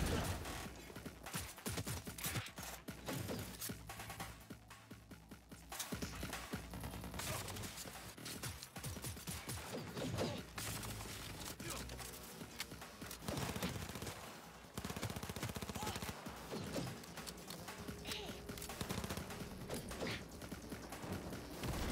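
Dense, continuous gunfire and explosive bursts from grenades during a Cyberpunk 2077 boss fight against a cyberpsycho, loud and chaotic throughout with mechanical clatter and no clear pauses.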